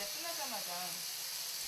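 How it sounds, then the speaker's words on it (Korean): Pork belly sizzles on a grill for a family dinner, a steady close hiss with a voice speaking over it. "삼겹살도 지글지글 구워지고 있습니다."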